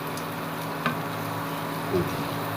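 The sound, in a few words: onions frying in a pan while being stirred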